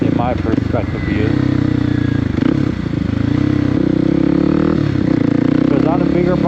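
A small motorcycle engine drones steadily and loudly while being ridden, with wind buffeting and slight shifts in pitch, as a rider speaks over it.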